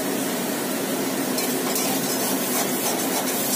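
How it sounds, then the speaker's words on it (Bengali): Chicken frying in oil in a pan for chowmein, a dense loud continuous sizzle with a few faint metallic scrapes, close up, a kitchen chimney fan adding to the roar. "তো আমার চিকেনটা ভাজা হয়ে গেছে"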